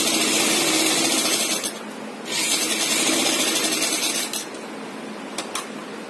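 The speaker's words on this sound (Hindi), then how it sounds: "हमने सीधी सिलाई लगा ली है।" A sewing machine runs a straight line of stitching along a lined kurti, a loud, continuous rapid mechanical whir with a brief pause and a couple of small clicks, heard up close with no talking.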